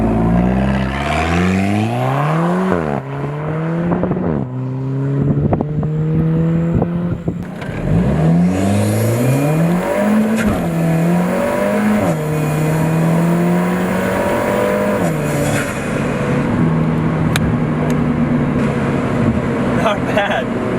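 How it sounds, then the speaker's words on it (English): An Alfa Romeo 4C with a racing exhaust revs and accelerates through repeated gear changes, its loud turbo whooshing and whistling over the rising engine note, with a sharp spool-up and flutter midway and talk mixed in. "you get that glorious turbo noise"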